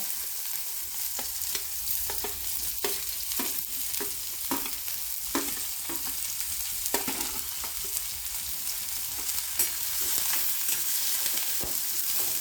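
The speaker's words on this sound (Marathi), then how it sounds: "कांदा छान सोनेरी रंगाचा होईपर्यंत परतून घेऊया" Onion added to golden garlic sautéing in a pan while being stirred, a steady close sizzle with regular spatula scrapes and taps throughout, no voices.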